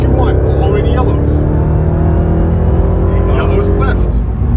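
Dodge Hellcat accelerating hard around Loudon Raceway, a steady loud engine roar with rising harmonic sweeps as it pulls through the gears, heard from inside the car with an instructor talking over it.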